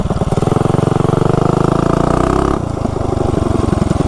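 A modified mini bike engine with a 60 sprocket buzzes loud and close as it revs hard from a launch, then drops sharply to a lower, choppy putter after about two and a half seconds.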